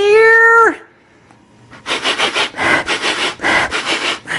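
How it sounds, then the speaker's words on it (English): A man sniffing camera gear: a brief tonal squeal at first, then a pause, followed by a quick run of loud, rhythmic close-up sniffs. "I'm sniffing the camera gear!"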